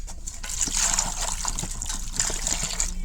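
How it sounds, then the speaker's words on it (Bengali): Raw mangoes are rinsed under running water, with a steady near trickle and splash that swells and dips as the fruit is moved, with no talking. "এখন আবার জল দিয়ে পরিষ্কার করে নিলাম"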